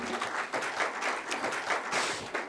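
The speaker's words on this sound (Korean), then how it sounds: "큰 박수로 부탁드립니다." A seated audience at a Seoul city budget forum applauds steadily, dense hand clapping filling the room at full volume without pause.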